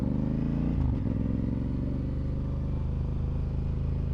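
A Honda Africa Twin motorcycle engine thrums loud and close while riding, a dense steady beat with a short clatter and pitch shift near the start as it changes gear, then settling into an even pull.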